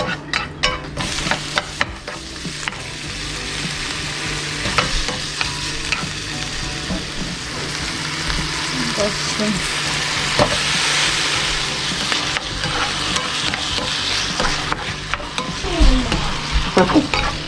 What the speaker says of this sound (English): So you wait till it's sizzling